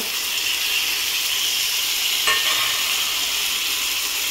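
Prawn curry cooked village style fries in a pan with a steady, close sizzling hiss; a single brief stirring scrape breaks through midway.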